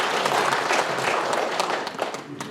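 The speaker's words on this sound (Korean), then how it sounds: "박수로 환영해 주십시오." An indoor audience claps steadily in welcome at a public information session on the Daejeon–South Chungcheong administrative merger in Gyeryong, a dense, even patter of many hands without talk.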